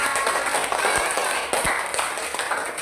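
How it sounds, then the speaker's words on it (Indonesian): Students in a classroom applaud a group of presenters, giving dense, steady clapping with a few sharper individual claps standing out throughout. "Tepuk tangan untuk kelompok 2."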